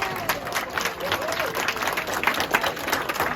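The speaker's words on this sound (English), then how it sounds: "So a big round of applause for the players" Rugby clubhouse crowd applauding the players after a tight match, dense sustained clapping with some voices mixed in throughout.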